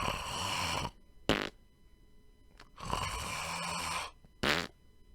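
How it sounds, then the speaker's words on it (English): A snoring grandmother, used as an audiobook sound effect, gives loud, close, rasping snores alternating with short snorts and quiet gaps. "Granny snoring."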